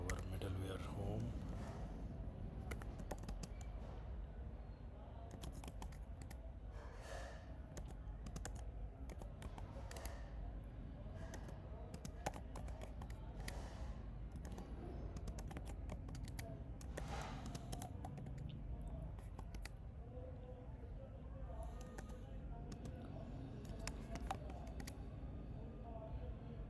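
Quiet clicking of keys on a computer keyboard as commands are typed into an administrator command prompt, soft and intermittent under a voice talking.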